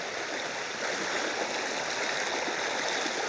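River water splashes and rushes steadily around legs while wading through a fairly deep river, a constant close hiss of flowing water with no speech.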